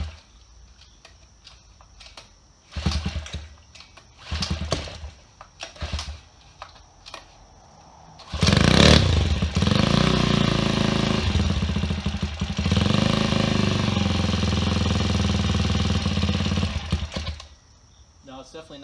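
A Phantom Bikes Ghost Classic motorbike engine without a compression release is pulled several times in short rasping bursts, then catches and runs loud and buzzing for about nine seconds before cutting out.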